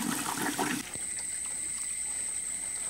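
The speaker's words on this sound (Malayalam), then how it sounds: "ഇത് ഇപ്പം വെള്ളം ഡിസ്ചാർജ് ആയിക്കൊണ്ടിരിക്കുകയാണ്" Water gurgles and drains through an aquaponics external bell siphon, a brief louder rushing burst, then a quieter steady trickle as air enters the pipe and the flow stops.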